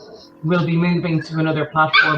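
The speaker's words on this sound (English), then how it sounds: "Please apologize for the barking in the background." A dog barks and yips in the background during a webinar presentation, several short sharp barks in quick succession under a person speaking.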